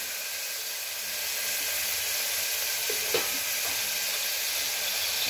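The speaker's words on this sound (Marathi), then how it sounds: "थोडा वेळ याला आपण चांगल्या प्रकारे लाल रंग होईपर्यंत तेलामध्ये परतून घेणार आहोत आपण." Goat mutton sizzles in hot oil in a village-style pan, giving a steady bright hiss that swells slightly, with a faint stir or clink near the middle and no talk.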